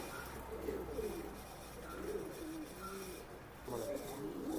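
Pakistani Teddy pigeons, a running pair, give soft repeated low coos in a few swelling phrases, close by over a faint background hum.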